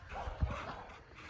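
A Malinois puppy in protection training gives short whimpers and yips against a steady background hiss, with a few low thumps and scuffs nearby.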